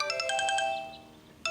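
A phone rings at home with a quick run of bright electronic ringtone beeps, a short pause, then the melody starting again, fairly soft and alone with no voices.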